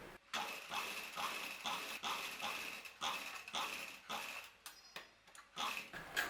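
A sewing machine runs a second line of stitching over an existing seam on a dhoti salwar, making a close, rhythmic mechanical clatter in repeated short bursts with brief pauses between them.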